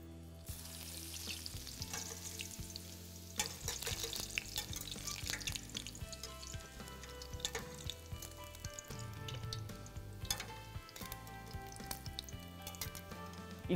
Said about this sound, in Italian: E adesso li friggo.